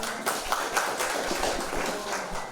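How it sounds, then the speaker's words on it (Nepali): Municipal council members at a town assembly budget session clap to pass the plans. The clapping is a busy, continuous patter of many hands with sharper individual claps poking through. "यो जति योजनाहरू हामीले निर्णय गरेका छौँ त्यसलाई पास गरिदिनको लागि ताली बजाएर"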